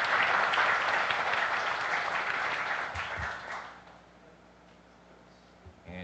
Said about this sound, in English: For this, we give her a round of applause.